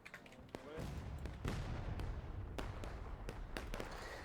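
Scattered musket gunfire in a War of Rights-style Civil War video game public match, Union versus CSA, with sharp irregular shots near and far over a rumbling battle background, with talk mixed in.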